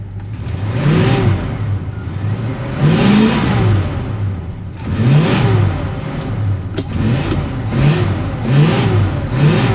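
A 1966 Ford wagon V8 is revved under load in drive with the brake held, rising and falling in several repeated surges, loud and close with no talking.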